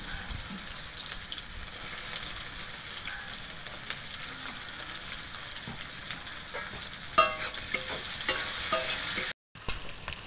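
Onions dropped into hot oil already holding whole garam masala and dried red chillies, frying for chicken biryani with a steady close sizzle, and stirring and clattering growing louder toward the end.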